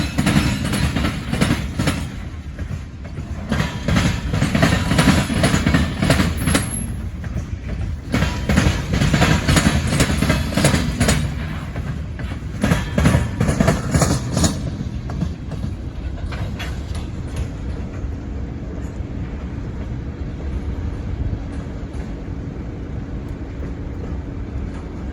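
Norfolk Southern trains roll past on two parallel tracks, a loud, steady broadband rumble with rhythmic clickety-clack of wheels over rail joints that eases to a lower, quieter drone in the last ten seconds.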